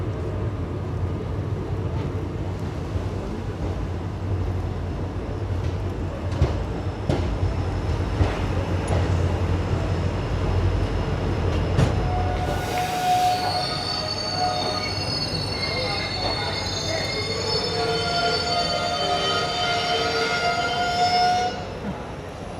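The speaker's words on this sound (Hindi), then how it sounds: "11:23 पर यहाँ पहुँची है हमारी ट्रेन" The Darbhanga Pune Express rolling into Bhusawal Junction, loud low rumbling wheels giving way to long high metallic squeals of braking as the train slows, close by, with faint voices in the background.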